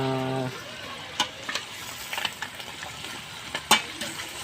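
Chicken curry with cabbage and potatoes stirred in a pan, a soft steady sizzle broken by occasional clinks and scrapes of the spoon, fairly quiet with no talk.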